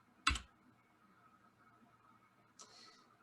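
Two isolated clicks on a computer keyboard, one sharp and close at the start and a softer one near the end, separated by a quiet pause.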